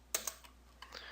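A computer keyboard clicks in a short burst of a few quick keystrokes, close and crisp, with a brief pause before a final cluster of taps.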